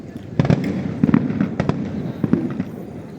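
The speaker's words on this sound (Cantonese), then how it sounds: "最少1萬發嘅煙花" Fireworks bursting at the Jingu Gaien fireworks festival in Tokyo, a string of sharp booming cracks in quick succession over a steady rumbling crowd-and-crackle bed, fairly close and loud.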